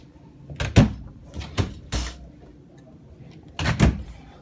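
Overhead storage cabinet doors in a 2022 Wildwood Lodge 353 FLFB travel trailer open and shut several times, giving sharp close wooden knocks and clicks in uneven pairs with quiet gaps between.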